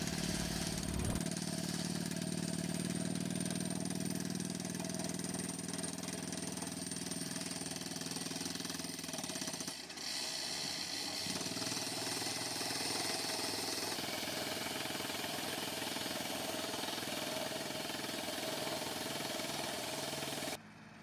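Drilling machine boring a railway tunnel through a hill on the Khurda–Balangir line in Odisha, a loud continuous mechanical roar with steady low rumble running the full length, briefly shifting in tone midway.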